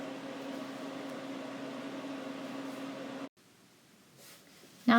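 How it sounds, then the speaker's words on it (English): A sewing machine stitches dimensional quilt triangle units with a steady, close motor hum for about three seconds, then stops abruptly, leaving quiet room tone before a brief louder burst at the end. "I'll stitch all of these"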